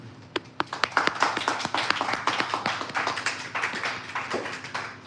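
An audience at a poetry open mic night applauds with a burst of overlapping hand claps, lively at first then thinning and tapering off over several seconds, close and fairly loud.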